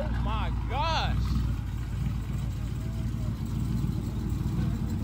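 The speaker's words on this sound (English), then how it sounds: "Listen to the Scat Pack, y'all." A Dodge Scat Pack fitted with nitrous and twin turbos idles with a steady, deep, lumpy rumble throughout, while people's voices carry over it.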